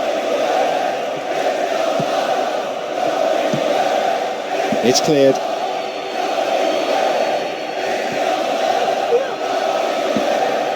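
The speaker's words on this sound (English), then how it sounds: "I have to say the crowd is adding to this as a spectacle. The noise they're making is terrific." A packed football stadium crowd at Barcelona versus Roma roars steadily, with a brief swell of whistles and chanting midway, and a commentator speaks over the constant din.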